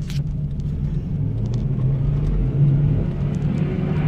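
A car drives along a badly kept road in winter conditions, its engine a steady loud rumble with the wheels spinning under gentle throttle, a continuous droning hum without speech.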